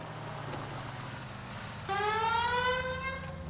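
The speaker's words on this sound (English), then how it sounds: "Turn on the siren and pull her over." A police car siren in a video game starts up partway through, its rising and falling wail loud over a low engine hum and ambient traffic.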